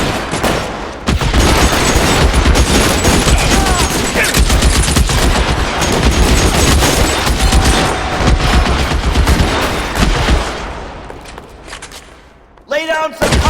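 Gunfire during a shootout in L.A. Noire, dense rapid volleys and machine-gun bursts that go on for about ten seconds, loud and close, then stop, with shouted voices over the shooting.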